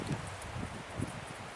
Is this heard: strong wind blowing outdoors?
yes